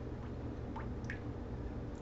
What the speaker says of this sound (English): And then you just pour the butter right on top.